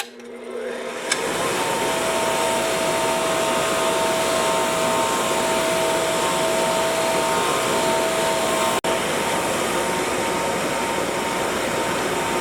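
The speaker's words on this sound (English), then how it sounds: "now I'm going to wire wheel this bad boy" A wire wheel spins up and runs steadily, loud and close, while cleaning a seized brake wheel cylinder, a continuous whirring grind with one brief dropout near the end.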